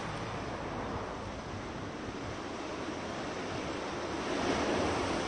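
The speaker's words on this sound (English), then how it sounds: "Look at those waves." Ocean waves wash in steadily at Warwick Long Bay Beach in Bermuda, a continuous broadband roar of surf with a slight swell near the end and no voices.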